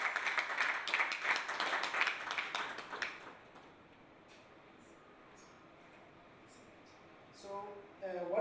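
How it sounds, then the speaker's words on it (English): A brief round of audience applause greets a man walking onstage at a product management talk, dense clapping for about three seconds before fading into quiet room tone and a faint voice. "please can we welcome him with a round of applause"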